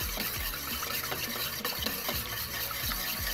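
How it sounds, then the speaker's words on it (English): Caesar dressing being whisked vigorously in a bowl, a steady run of quick scraping, clicking strokes repeating close by and alone with no talk. "As we're whisking that"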